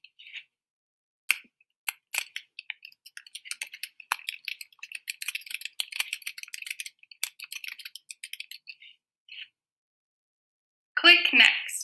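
Fingers tap out a goal on a computer keyboard in a rapid, irregular run of close, crisp key clicks with brief pauses. A short burst of voice comes at the end.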